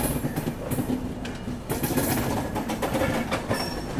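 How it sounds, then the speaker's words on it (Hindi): Train at a New Delhi railway station platform, with a continuous rumbling rail noise and rhythmic clatter of wheels, fairly close and steady, with no voices. "सामने प्लेटफॉर्म नंबर 15 पे लगी है न्यू दिल्ली डिब्रूगढ़ टाउन राजधानी एक्सप्रेस"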